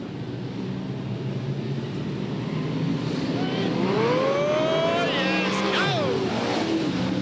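Super sedan race cars roar away from the start at Yandina Speedway in 2001, a dense loud engine wall with climbing revs and gear changes, under an excited commentator talking throughout.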